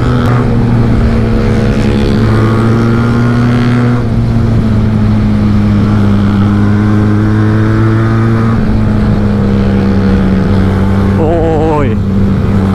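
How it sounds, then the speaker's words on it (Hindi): Two Yamaha R15 motorcycles fitted with full-system exhausts chase each other, a loud, close, droning engine roar that shifts pitch at a couple of gear changes before a sharp rising rev near the end. "दोनों R15 एक दूसरे को चेस करते हुए आपके के साथ फुल सिस्टम एग्जॉस्ट लगाए हुआ है"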